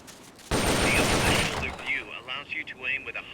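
Rapid burst of M16 assault rifle fire in Metal Gear Solid Peace Walker, a loud rattling volley of about a second that cuts off into ringing game effects and short clicks.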